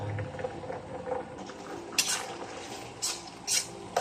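Hotdog pieces stirred into tomato sauce in a pan for spaghetti, with soft scraping and light clinks of a utensil against the pan, a few sharper metallic taps near the end, no voices.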